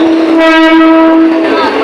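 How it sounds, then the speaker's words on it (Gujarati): A loud, sustained horn of a Mumbai local commuter train starting off blares close by, its tonal drone holding steady before fading slightly, with rail noise underneath. "આ બોરીવલીની ટ્રેન ચાલુ થઈ ગઈ છે"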